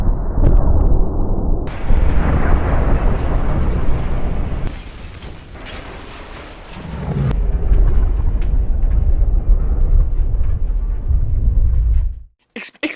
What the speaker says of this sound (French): Explosion. Explosion. Feu d'artifice.